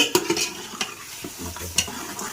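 Spices and yogurt being mixed with a spoon in a pot, a short stretch of close scraping and soft clinks at an uneven pace, no talking.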